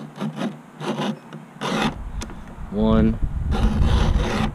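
A Stihl 2-in-1 file sharpener rasps along a chainsaw chain in close, steady back-and-forth strokes, several scraping passes in a row, with a voice briefly counting between them.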